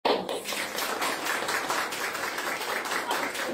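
Sustained applause from an audience at an evening gospel study gathering, a continuous rattle of many hands at moderate level with voices mixed faintly underneath.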